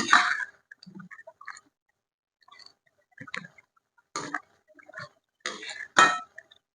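Fish and drumstick (chojina) pieces being stirred in a pan, giving scattered scrapes and light metallic clinks in short irregular bursts with quiet gaps between them.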